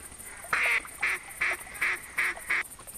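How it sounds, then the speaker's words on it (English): A long range duck caller quacks in theHunter video game, six rhythmic nasal calls in a steady series, close and loud over faint ambient hiss, with no voices. "I'm going to keep calling."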